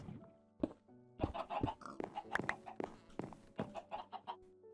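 Minecraft chickens, some of them chicks, clucking in a coop in a string of short, choppy bursts that come close and fairly clearly, with brief gaps between calls.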